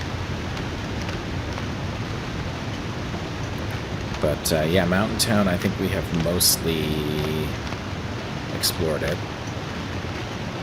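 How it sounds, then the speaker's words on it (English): Steady broadband rush of a waterfall in The Long Dark survival game, a constant loud wash filling the whole clip while someone talks over it. "It's loud because of the waterfall."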